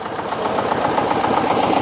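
A self-starting engine runs at a steady, rapid chug, close and fairly loud with an even pulsing rhythm and no voices.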